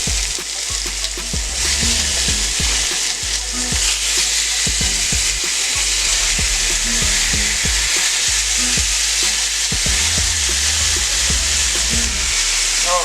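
Chunks of cooked birria meat sizzle steadily on a Still Made USA griddle over turned-down heat, a loud continuous frying hiss with crackle and occasional scraping stirs throughout.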